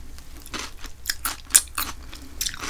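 Close crunchy bites and chewing of a crisp salad with mayonnaise and ketchup dressing from a Lotteria burger meal, heard as a series of sharp wet crunches about half a second apart, with no speech.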